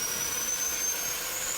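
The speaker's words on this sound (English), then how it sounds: "the engine should come up. There it goes, it's coming." Mirage F1 jet engine spooling up in the DCS flight simulator, a steady, fairly loud turbine hiss and rushing whine with a thin high-pitched tone running through it, no talking.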